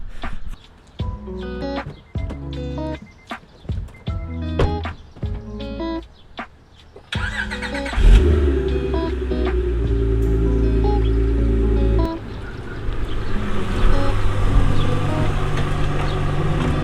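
An Acura NSX Type S starts with a series of clicks and knocks, then the engine catches around the middle and settles into a loud, close idle and low rumble as the car moves off to park.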